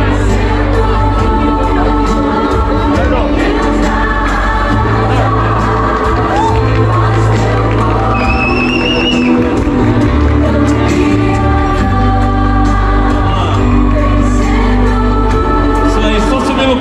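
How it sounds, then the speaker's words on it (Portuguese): A crowd gathered for a rural street footrace in Bom Sucesso de Itararé, São Paulo, claps and cheers steadily throughout, with whoops, shouts and children's voices rising over the loud, continuous din. "salva de palmas"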